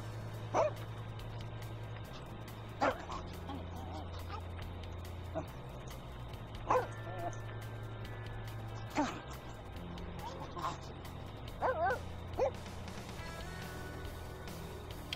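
Short dog barks and yips ring out in The Sims 2 game at a pet-shop bathing scene. They come in scattered bursts over a steady low game hum, with a voice talking in between.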